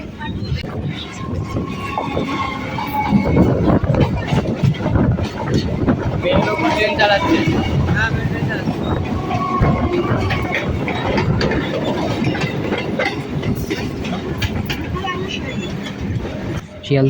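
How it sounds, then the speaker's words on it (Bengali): A suburban local train on the Barasat–Canning line in West Bengal rumbles and rattles along the tracks through grassland, steady and loud, with wind buffeting the microphone and voices talking faintly underneath. "আমাদের ট্রেনটা এখন ছুটে চলেছে সেই তৃণভূমির মাঝখান দিয়ে"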